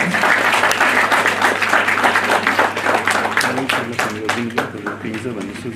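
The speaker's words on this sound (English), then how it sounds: "please welcome him with a big round of applause." A seminar audience at a healthcare management opening ceremony breaks into sustained, dense applause that holds strong before thinning toward the end, with a voice faintly present beneath the clapping.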